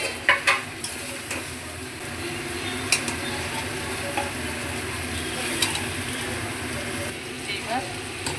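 Meat being slow-fried into kosha sizzles steadily in a pan while a spoon stirs and scrapes against the metal in occasional clanks, close and continuous, with speech heard at times over the cooking.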